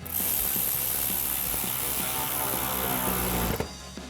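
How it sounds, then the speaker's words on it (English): A ratchet with an extension and 8mm socket tightens an air intake clamp on a Silverado 1500, giving a fast, continuous clicking of the pawl up close for about three and a half seconds before stopping. "We're gonna grab our ratchet extension 8mm socket, tighten that down."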